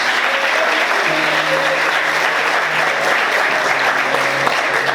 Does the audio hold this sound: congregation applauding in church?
yes